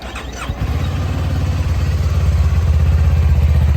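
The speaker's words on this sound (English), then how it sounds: "I'll go ahead and fire it up here for you." A 2024 Kawasaki Eliminator SE ABS motorcycle engine cranks with a brief starter whir, then catches into a loud, close, steady idle with a rhythmic low-pitched throb that builds slightly.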